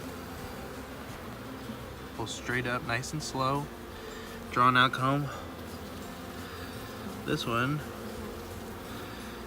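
Honeybees buzz steadily around an open hive during a frame inspection, a close continuous drone running under a person's calm, intermittent speech.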